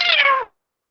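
A house cat lets out a single clear, drawn-out meow, close and fairly loud. It lasts about half a second and then cuts off into silence.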